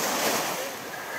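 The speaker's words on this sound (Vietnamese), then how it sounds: "nhờ có gió, gió biển á, làm cho mình cảm thấy dễ chịu lắm kìa" Sea breeze and surf at Indian Rocks Beach, Florida: broad rushing wind buffeting the microphone over a steady wash of waves, loud and close, easing slightly toward the end.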